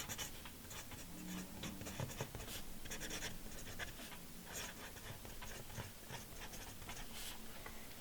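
A broad nib Delta New Gallery fountain pen moves across paper in a steady run of soft scratchy strokes with small ticks between them, close up and quiet, with no one talking.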